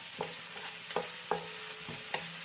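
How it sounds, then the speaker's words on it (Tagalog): Garlic sizzles in very hot cooking oil while being stir-fried, a steady frying hiss broken by several sharp scraping stirs at an uneven rhythm, close and fairly loud. "Sobrang init na mantika. Lagi ko na rin yung garlic."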